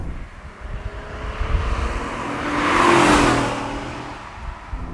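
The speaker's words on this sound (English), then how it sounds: "You can hear the engine whirring away and doing its thing" Honda NSX engine heard from inside the car, with a steady mechanical whir and hum that swells to a louder peak midway before easing back down, and no talking.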